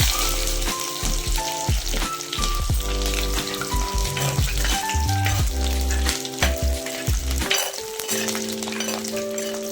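Dried red chillies and garlic fry in hot oil for a Kerala-style star gooseberry pickle, giving a steady, loud sizzle with occasional clinks of a spoon against the pan and no talk.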